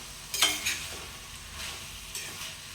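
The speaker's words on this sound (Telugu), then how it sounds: "ఇప్పుడు ఇందులోకి క్యాప్సికమ్ ముక్కలు ఈ టమాటా ముక్కలు బాగా కలిసేటట్టు కలుపుకోవాలి" Capsicum and tomato pieces stirred in a hot pan for a curry, a soft, fairly quiet sizzle with a couple of sharp spoon scrapes near the start and another later, no talking.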